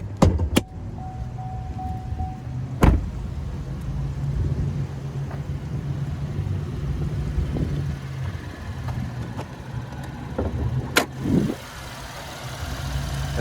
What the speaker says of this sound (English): I like how easy the hood was to close and it didn't clang like a lot of other vehicles I've done.